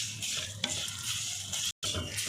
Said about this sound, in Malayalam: മസാല ഇതുപോലെ ബ്രൗൺ കളറാക്കി എടുക്കുക. കരിയാൻ പാടില്ല.